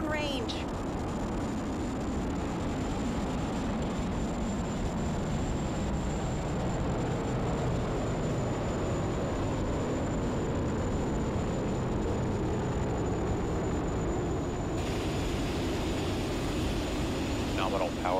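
SpaceX Falcon 9 rocket lifting off with the Crew-8 Endeavour capsule, a dense, steady roar of broadband rumble that holds loud and continuous throughout, with a faint steady tone above it and a launch commentator speaking over the noise.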